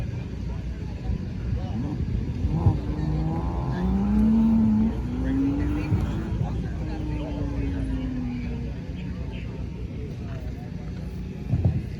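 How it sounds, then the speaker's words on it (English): A 2015 Mitsubishi Evo launches off an autocross start line at Daytona Speedway, its engine revving and rising in pitch as it pulls away, heard mid-distance under a loud announcer's voice and crowd noise. "And off at the line was Chris in the 2015 Mitsubishi Evo"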